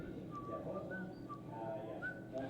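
A person whistles an anthem as a slow melody in held, wavering notes, faint and close, over a low background hum.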